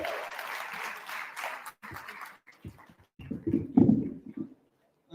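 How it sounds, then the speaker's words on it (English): Applause for poetry slam contestants rises briefly and then thins into scattered, fading claps. The sound is fairly faint and distant in a hall, with sparse noises trailing after it. "I'd like for us to give all the contestants a beautiful round of applause."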